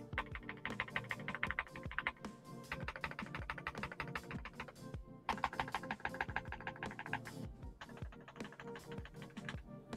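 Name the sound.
typing on Redragon Eisa K686 Pro SE mechanical keyboard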